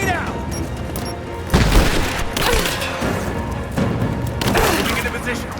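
A grenade explosion in Rise of the Tomb Raider lands as a loud, heavy boom with a crashing burst, followed by further thuds and debris-like crackles amid gunfire and a voice calling out in the background.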